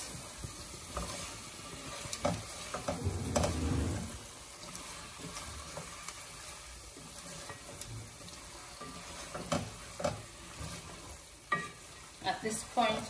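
Egg bhuna fries in a pan with a close, continuous sizzle while a spoon stirs and scrapes it, making irregular clanks and scraping strokes throughout.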